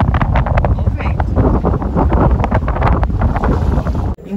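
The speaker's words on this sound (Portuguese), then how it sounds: "Olha o vento." Strong meltemi wind buffeting an anchored sailboat, a loud, continuous roar of wind against the microphone with gusting surges throughout, close and dominant, cutting off abruptly just before the end.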